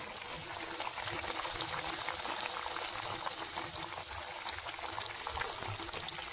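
Chandosha pitha frying on high flame, a steady hissing, bubbling sizzle of hot oil that keeps up without a break, close and fairly quiet, with no talking.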